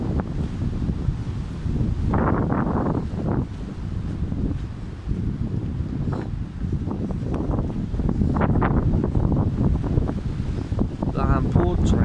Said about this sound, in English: Oh God, big wind gust. God, it's wow noisy in this woods.